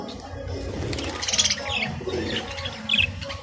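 Small caged birds let out a couple of brief, bright chirps among soft rustling and low background noise.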